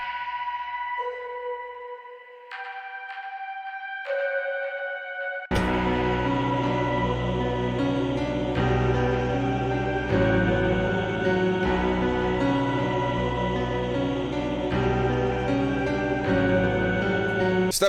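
Layered synth atmospheres in FL Studio open with sparse, airy bell and lead notes, then swell into a dense, sustained pad-like wash with deep low end and a gong accent, full and continuous throughout.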